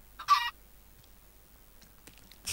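Minecraft chicken clucking in survival mode, two short bursts of clucking separated by near silence and faint game sounds, with no talking.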